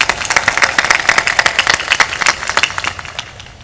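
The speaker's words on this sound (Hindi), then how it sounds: "श्रोता उनके सम्मान में एक बार मधुर मधुर ताली बजाकर स्वागत करता है।" An audience at a religious discourse gathering in Syopur, Madhya Pradesh, applauding in a close, rapid, uneven patter of claps that gradually thins out.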